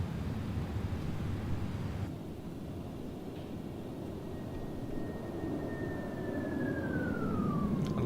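Rolls-Royce RB211 jet engines on a Boeing 757-200 in the X-Plane 12 flight simulator give a steady, loud broadband roar, with a thin whining tone that holds and then glides downward near the end, with no talking.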